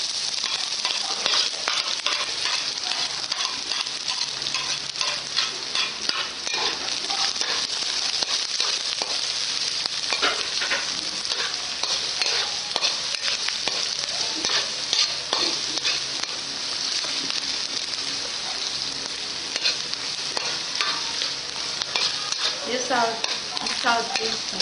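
Garlic and onion sauté in a pan with a loud, close, continuous sizzle broken by frequent scraping stirs, and faint speech underneath now and then.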